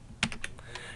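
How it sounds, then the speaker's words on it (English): Numbers are typed on a computer keyboard into a spreadsheet: about five close, clicky keystrokes in a quick burst, with no voice. "Now I'm going to type a number here,"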